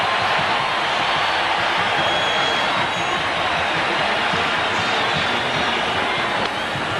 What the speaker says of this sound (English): listen to this Oregon crowd in Eugene